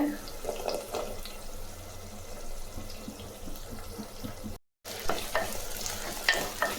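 Small onions (shallots) frying over high heat in a pan, a continuous close sizzle with repeated stirring scrapes and clatters, and a brief dropout partway through.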